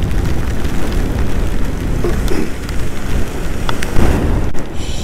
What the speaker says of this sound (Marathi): पावसाचं काय थांबायचं नाव नाही